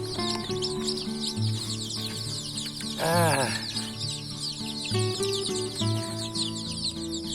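High, busy peeping of many small chicks of an egg-laying breed fills the scene, with a louder clucking call rising briefly in the middle and low background noise throughout.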